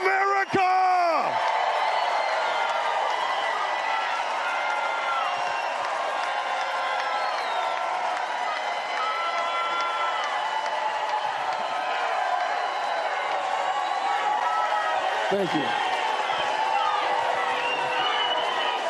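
A crowd at a presidential campaign event roars continuously, with whoops and yells rising above a dense wall of cheering. A voice briefly says thanks near the start.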